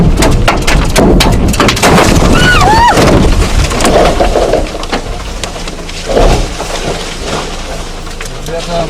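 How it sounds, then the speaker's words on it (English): Trees in a dense forest beside a road crack and crash down in a rumbling, noisy tumble of sharp snaps and heavy thuds, loud and near, with voices speaking over the commotion. "At first, you can hear a slight crack from one of the trees, and then the tree falls."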